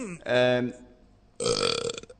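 A loud, close burp rumbles out, then a second longer, gurgling belch follows after a short pause, with no other sounds around them.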